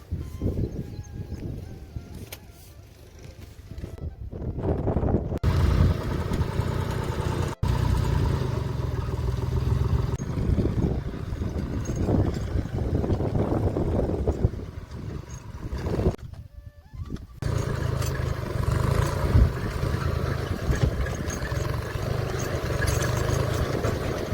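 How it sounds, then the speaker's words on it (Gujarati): A tractor working a cotton field during weeding gives a steady, close engine drone that runs almost unbroken, with only two brief dropouts. "દોસ્તો આમાં ટ્રેક્ટર હાંકવાનું એમ ચાલુ કર્યું છે"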